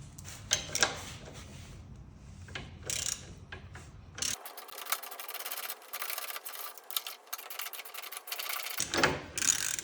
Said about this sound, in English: we're gonna be using a 516, a hex 516 to remove the floorboard